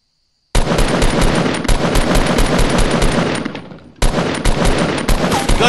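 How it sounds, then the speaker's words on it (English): Rapid automatic gunfire in the Fortnite video game, loud and dense, rattles almost continuously with a short dip before resuming. "Who is he shooting at?"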